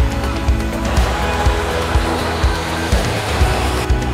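Waterfall at Cuyahoga Valley National Park, a steady loud broadband roar of falling water filling the whole stretch, with faint regular low thumps beneath it and no voices.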